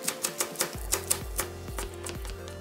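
A knife taps briskly against a cutting board several times, green onion being sliced in a quick run of close, crisp strokes over faint music.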